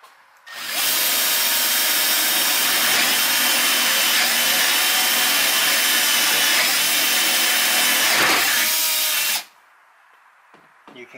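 A power tool cuts through a sheet of plywood on a jetboat deck, a loud steady whine running for about nine seconds before stopping abruptly, with a brief change in pitch near the end.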